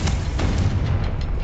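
A Confringo fire spell explodes in Hogwarts Legacy, a loud, deep booming blast with a rumbling low end and brief crackling bursts over about a second and a half, no speech.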